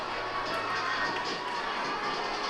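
Crowd murmur and cheering from a football stadium in Paisley as youth teams from Scotland and the Netherlands walk out, a dense, steady wash of many voices filling the space at moderate distance.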